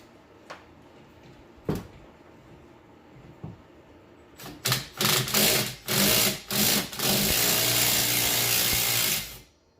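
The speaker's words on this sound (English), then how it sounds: "we're gonna finish it off with the impact, with the swivel on the one end" An impact wrench with a swivel tightens bolts on the wiper motor assembly of a 2011-15 Lincoln MKX or Ford Edge. A few short rattling bursts give way to one long, loud buzzing run, all close up.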